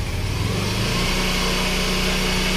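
Yamaha M3 motorcycle engine held at high RPM during a test after an ECU remap, a loud, steady near drone with a slight dip in pitch early on.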